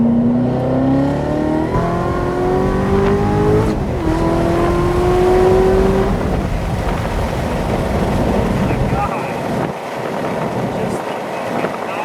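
A 700HP Corvette Z06 accelerates hard, its exhaust rising in pitch through a couple of gear shifts, loud and close from inside the car, with wind noise and a voice partway through.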